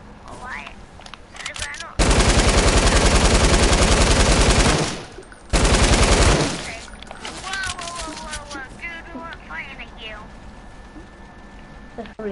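Loud, sustained automatic gunfire bursts in Fortnite, with two long rapid-fire streams separated by a brief gap, then fading into scattered shots while people talk over the game.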